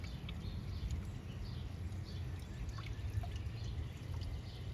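Hot water mixed with baking soda is poured over car battery cables. It makes a faint, steady trickle and splash under a low background hum.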